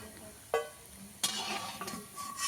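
Jackfruit seeds frying in a pan, with a steady soft sizzle and two sharp clinks of a utensil against the pan, close and with no talk.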